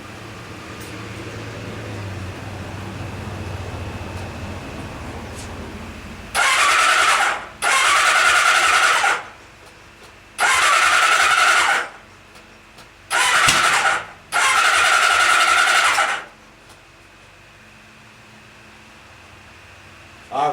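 A 1976 Kawasaki KZ900-A4 street fighter motorcycle with new coils and a Kerker exhaust fitted with a 1.5-inch competition baffle, starting for the first time in 24 years: five loud cranking bursts of the starter, one after another, with quiet between them.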